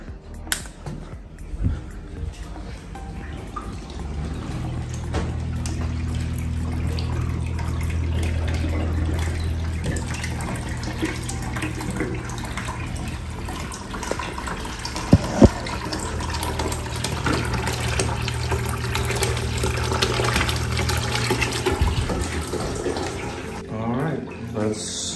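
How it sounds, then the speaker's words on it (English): A pump drains aquarium water into a bucket, giving a steady low hum with a continuous rushing, splashing flow under occasional talk, plus a couple of brief knocks midway. "Let's turn it on, let's see how long it takes to drain that bucket."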